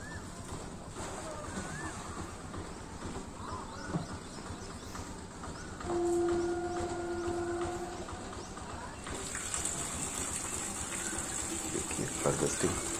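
Nutrient-rich water gushing steadily out of a nutrient harvester for a garden, a continuous watery pour with a faint tonal hum joining midway, heard under ongoing background noise.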